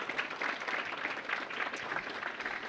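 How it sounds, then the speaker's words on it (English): Steady applause from a crowd, sustained without pause, fairly soft and even throughout. "Well, let's give her a round of applause, McKenna Stetka for the Army."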